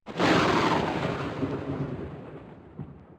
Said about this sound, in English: the storm boiling away outside as you explore the empty corridors